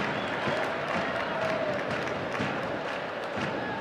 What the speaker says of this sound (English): A great crowd on hand once again.